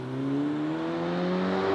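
A VW Golf with a muffler-deleted exhaust holds a steady, rising growl with a smooth tonal drone, heard close and alone with no talk.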